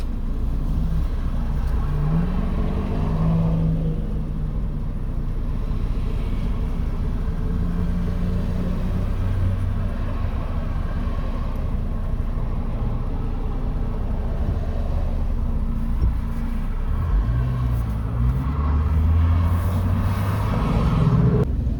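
A 2006 Chevy Trailblazer's engine idles at a stop after a run, a steady low rumble close by with faint shifts and a slight rise in revs now and then.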